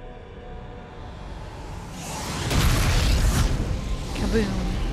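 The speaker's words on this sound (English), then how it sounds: "That's the Kaboom! Ship exploding." Ship exploding during the warthog run in the Halo video game, a deep rumbling boom swelling midway and rolling on, with people talking over it.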